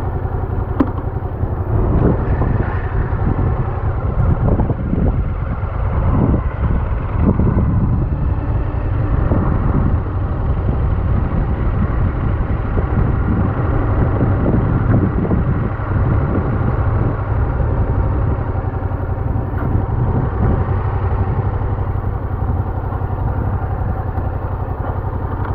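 A motorcycle on a Mod 1 riding test rides down and parks forwards in a marked box, its engine a steady, fairly loud drone throughout with some wind buffeting and no talk.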